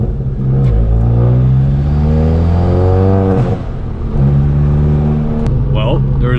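A turbocharged Volkswagen MK7 engine revs hard, its pitch climbing and dropping through a couple of loud pulls with a brief lift in between.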